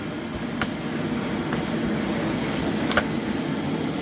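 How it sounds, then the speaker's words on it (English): A vacuum cleaner running steadily, a constant loud whooshing drone with no pauses, heard alone with a couple of faint clicks. "this is speed vacuuming"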